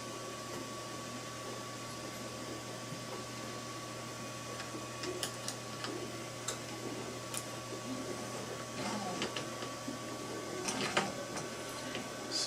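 A Creality CR-10 3D printer carriage, its eccentric nut loosened, is pushed along by hand and sticks, giving sparse faint clicks and scrapes over a steady low hum.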